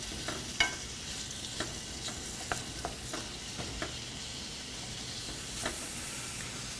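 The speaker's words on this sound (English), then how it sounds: "Let's go ahead and get it sizzling. We're going to saute this for 3 to 4 minutes." Pork sizzles steadily in a hot pan, a soft continuous hiss broken by faint scraping stirs and occasional pops, close by and fairly quiet.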